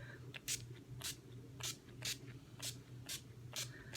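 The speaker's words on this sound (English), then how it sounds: "I just like to spray it all over my face" Quiet, close spritzes of a makeup setting spray onto a face, about eight short hissing bursts at a steady rhythm over a low background hum.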